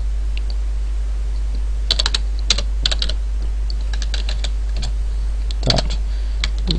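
Code being typed on a computer keyboard during a C# programming session, with clustered bursts of crisp key clicks at close range over a steady low electrical hum, pausing briefly between words and no speech.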